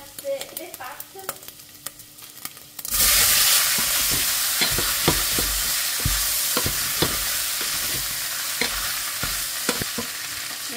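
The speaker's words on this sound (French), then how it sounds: "mes lards sont dorés, je vais verser les pâtes." Bacon lardons fry in a pan, and pasta tipped in sets off a sudden loud, sustained sizzle. Scraping stirs and clinks of a utensil on the pan come through the hiss, after a few quieter clatters at the start.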